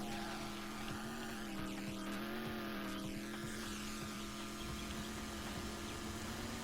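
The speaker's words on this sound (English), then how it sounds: "it's completely drowned out by the sounds of the engine. So you get engine sounds" A racing car engine in the GameCube game Drome Racers drones steadily and loudly throughout, holding a constant buzzing pitch with no pauses and no voices.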